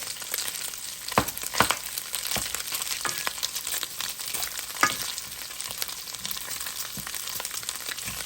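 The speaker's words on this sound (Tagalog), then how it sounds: "So we can use the oil this way to stir fry our garlic, onions, and some of ingredients." Garlic and onions stir-fried in rendered pork fat for Filipino pork adobo, a steady close sizzle with sharp scrapes and clacks of a utensil against the pan at irregular intervals.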